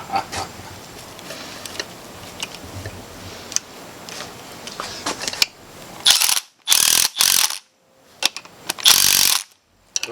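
A small impact gun runs down a bolt on a 500hp budget car build, giving several short, loud rattling bursts separated by brief pauses after a stretch of lower workshop clatter.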